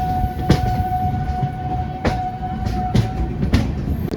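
An express train runs across the road-cum-rail bridge past Rajahmundry, its steady rolling rumble punctuated by several sharp clacks of wheels over rail joints, with a faint tonal whine underneath.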